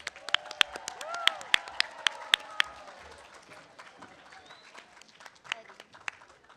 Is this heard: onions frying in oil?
no